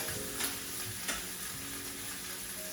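Beef short ribs sear in a hot pan with a steady, dense sizzle that fills the whole stretch, broken by two sharper crackling bursts, close and loud with no voices.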